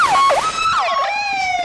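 An Air Force armored car in the 1985 Cheyenne Frontier Days parade blasts a very loud, close siren that whoops down and up in quick swoops, then settles into a held wail.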